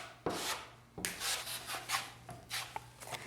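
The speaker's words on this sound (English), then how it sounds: "Now I'm ready to fill in the seams" A drywall blade spreads joint compound over drywall seams, giving repeated scraping, rubbing strokes with sharp starts, each stroke close and fairly quiet, with no voices.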